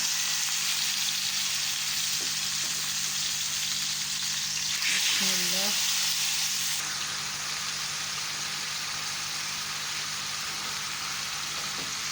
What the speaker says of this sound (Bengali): এখানে আমি মিষ্টি কুমার ভাজি করবো